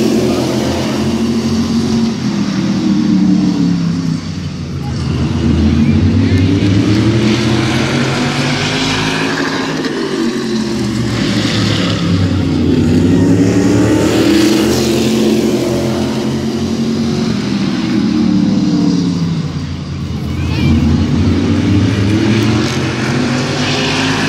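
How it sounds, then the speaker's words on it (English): E-mod race cars roar around Midvale Speedway during a helmet dash, engine notes rising and falling in repeated sweeps as the pack passes, loud and continuous, with faint announcer talk beneath. "Wilcox with the race lead, McGrath going to battle back on the outside."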